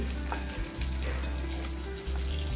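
Stuffed okra sautéing in a kadhai gives a steady, close sizzle with a few soft stirring scrapes and brief dips in the hiss, heard alone with no voices.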